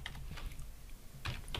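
Computer keyboard keys are pressed to type Alt key codes: a few quick, quiet clicks in short bursts, close and alone.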